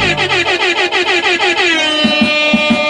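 Loud, blaring air horn blasts in a rapid repeated stutter, then one long sustained honk with a thumping beat underneath.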